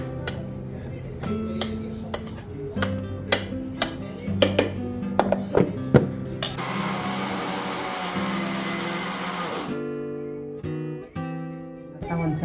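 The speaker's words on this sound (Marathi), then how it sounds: "आता मिक्सरला फिरवून घेईल" Clinking of kitchen utensils, then an electric mixer grinder whirs loudly for about three seconds, grinding garlic, before stopping, followed by more clatter.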